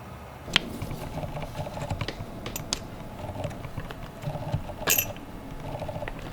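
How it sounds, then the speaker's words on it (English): Stubby screwdriver working screws out of a Super 73 Z1 electric bike, with soft close clicking and ratcheting ticks and light handling sounds, all fairly faint. "I just use a little stubby screwdriver to get in there."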